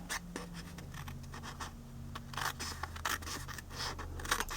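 Scissors trim paper for a Chapstick box in close, quiet snips and scrapes, a rapid irregular series of short crisp cuts with paper rustling between them.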